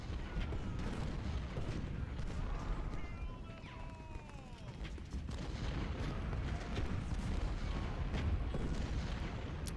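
Artillery fire in the Civil War strategy game Ultimate General: Civil War, repeated distant booms and gunfire crackle mixed with hoofbeats, running along under a talking voice.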